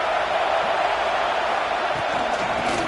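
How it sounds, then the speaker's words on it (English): Dense, steady roar of a fired-up home crowd filling a college football stadium, continuous and loud with no distinct individual voices standing out. "It's early, but this crowd is fired up. Listen to this noise here."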